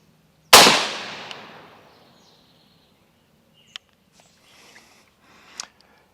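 A rifle fires at a range target, one loud sharp report whose echo decays over about a second, followed by a few faint distant clicks and taps.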